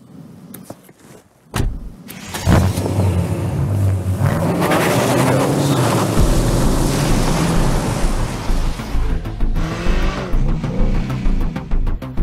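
A 2019 BMW 8 Series 4.4-litre twin-turbo V8 petrol engine starts after a few clicks and settles into a loud, deep, throaty roar that rises and falls as it runs close by.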